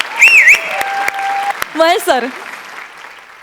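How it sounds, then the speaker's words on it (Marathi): Loud audience applause after a Marathi comedy sketch, a sustained wash of clapping from a crowd with a brief spoken name heard over it. "बुंबाट सुसाट जोरदार टाळ्या."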